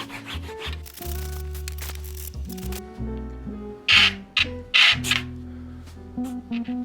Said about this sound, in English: I'm just gonna try to clean some bird poop off these tires